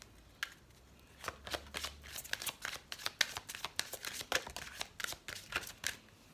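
Tarot cards being shuffled by hand, a quick run of close, crisp riffling flicks in irregular bursts, fairly quiet, with no talking.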